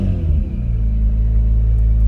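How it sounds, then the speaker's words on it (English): A 2020 Acura NSX hybrid engine firing up in Sport Plus mode, a loud, deep rumbling idle that swells and settles into a steady low growl close by. "if I go to Sport Plus, you'll hear the engine come into life"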